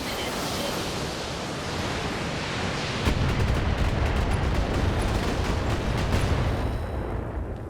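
Mech weapons fire a precision strike in the BattleTech game: a dense, loud wash of booming, rumbling impacts that swells abruptly a few seconds in and holds, with faint speech beneath.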